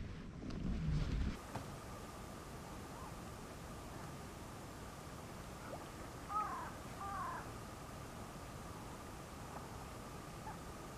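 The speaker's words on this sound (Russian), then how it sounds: "Ко мне ворона прилетела." A single crow caws once or twice at a distance over steady wind and outdoor background noise at a reed-lined fishing spot, with a brief louder rustle near the start.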